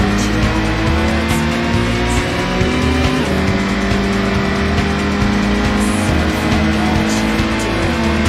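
Racing cars in Gran Turismo, played through a PlayStation emulator on PC: loud, constant engine roar with revving and tire squeal, a dense unbroken wall of motor noise with no talking.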